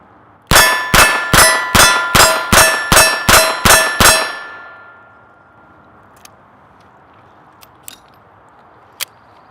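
Spent .22 LR shells drop from a Smith and Wesson 617 revolver onto a hard surface. Nine or ten bright metallic clinks land in a quick, even run, close and loud, then ring out and fade, with a few faint ticks after.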